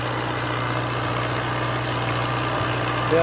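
A Dabang 2019 model tractor engine runs at a steady, loud, close idle with a constant low droning hum and no breaks, without any talk.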